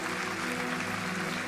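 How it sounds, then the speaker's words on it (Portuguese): A church congregation applauds during a live sermon, a steady, diffuse wash of clapping heard through a hall with a low sustained hum beneath it, fairly faint and even for the brief moment. "Vamos aplaudir a esse Deus que não muda?"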